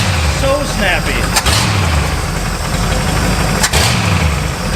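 Engine of an abandoned luxury Pontiac, revived after twenty years, idling low and steady with a loud continuous rumble, two brief revs breaking through, and voices talking over it.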